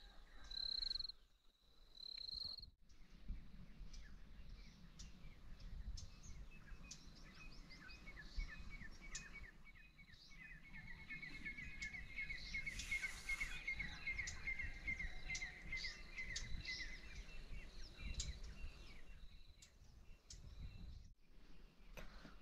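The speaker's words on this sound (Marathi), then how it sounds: "पक्ष्यांचा चिवचिवाट चालला आहे" Birds chirp and call at dawn over a farm field, with high tweets and trills scattered across a quiet, faint outdoor background and a steady insect-like buzz underneath.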